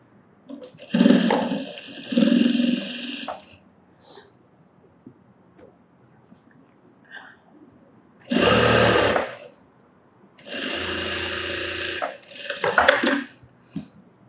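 Sewing machine stitching fabric during tailoring instruction, running in several loud bursts of a few seconds each, separated by quieter gaps with faint handling sounds.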